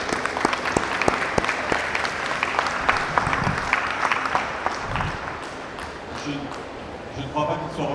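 Audience applause at the Green Solutions Awards ceremony, a sustained burst of clapping from a seated crowd that fades out toward the end as voices take over.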